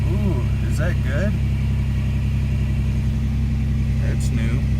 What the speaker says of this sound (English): Look at that high idle.